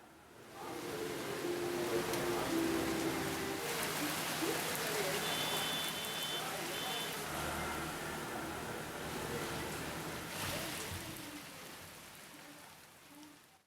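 Heavy evening rain pours steadily on the surface, a dense continuous hiss that holds for the whole stretch with no voices.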